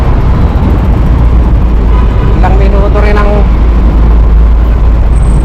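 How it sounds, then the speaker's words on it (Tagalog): Steady road traffic of cars and buses in Gapan, Nueva Ecija, a loud continuous rumble with a brief vehicle horn-like tone in the middle, while a person talks over it throughout. "naubos namin dito sa traffic na to oh."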